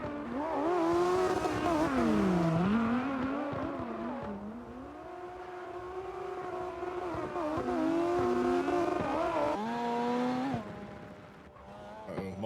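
A Mazda RX-7 race car drives a night open practice session in St. Pete, its engine loud and close with a strong rising and falling pitch as it revs through gears, easing off and dropping away near the end.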